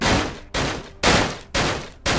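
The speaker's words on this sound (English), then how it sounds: "I know you're hearing that door." Heavy wooden door being banged on during a Viking Conquest siege in Mount & Blade Warband, five loud booming thuds at an even half-second rhythm, each ringing with a long echoing decay, no voices.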